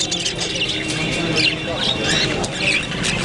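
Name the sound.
birds chirping, colourful birds for sale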